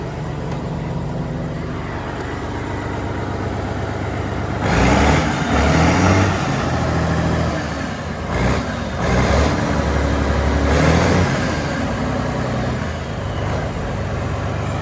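A Bizon Gigant Z060 combine harvester engine rumbling nearby, then revving up in several bursts of rising roar before settling back to a steady drone.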